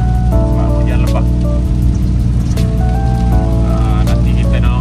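Heavy rain falls at Gunung Ring in Jeli, Kelantan, as a dense, loud, constant wash that stays up close, with a voice talking over it and steady tonal hums underneath.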